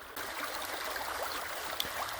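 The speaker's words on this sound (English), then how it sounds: "I'm in a little creek bed on the west side of the Rivanna River" A small creek flows over rocks beside Route 6 near the Rivanna River in Virginia, a steady, soft, close rushing and trickling with no voices.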